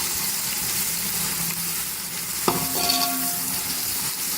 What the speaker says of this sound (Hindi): प्याज के साथ लहसुन का पेस्ट फ्राई करेंगे।